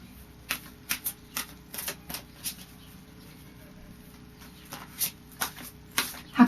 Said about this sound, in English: I'll now just finish off with a final shuffle.